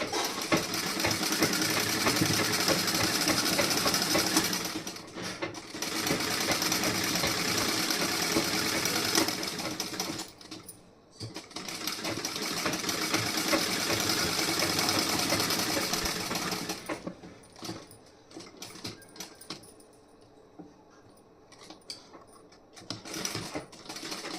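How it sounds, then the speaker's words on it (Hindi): A sewing machine stitches cloth for a blouse sleeve and back, running in long steady whirring bursts with brief pauses between, close and alone, the motor rattle fading out near the end. "अब यहाँ पे मैं सिलाई लगा दे रही हूँ।"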